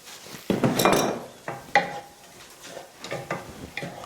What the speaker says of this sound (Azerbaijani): Yaxşı qovur. Narahat olma, qovururum. Və soğan qovuruldu dostlar.